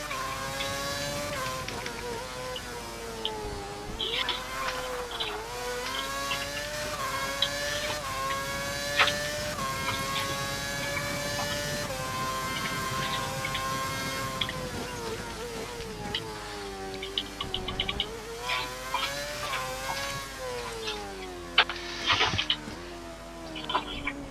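A Formula 1 car engine in the racing game F1 2011 during qualifying at Marina Bay whines up and down through gear changes, loud and continuous with sweeping pitch shifts.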